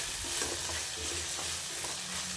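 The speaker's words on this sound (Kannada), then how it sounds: "ಈಗ ಅವರೆಕಾಳು ಹಾಕಿದ ಮೇಲೆ ಸ್ವಲ್ಪ ನಿಮಗೆ ಎಣ್ಣೆಯಲ್ಲಿ ಮರುಗಿಸ್ಕೊಡಿ" Field beans (avarekalu) fry in oil for chitranna, a steady close sizzle with soft stirring scrapes running throughout.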